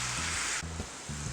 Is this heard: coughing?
no